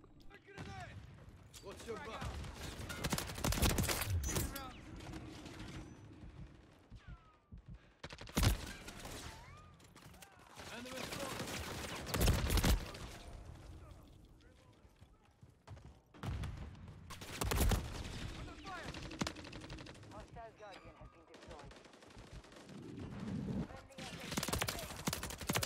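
Gunfire in the video game Modern Warfare 3, bursts of automatic shots and sharp mechanical clatter in several loud clusters over game sounds, with voices talking throughout.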